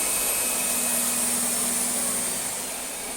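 Vacuum cleaner running at a quieter setting with the wand raised, a loud, steady whooshing drone with a high whine, close and continuous, easing slightly toward the end.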